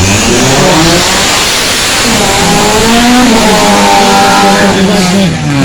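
A BMW E46 rally car climbs a hill-climb course with a loud, close engine roar that stays at full volume, rising in revs with gear changes, while faint commentary sits underneath.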